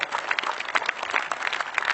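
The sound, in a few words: audience applause during a poetry recital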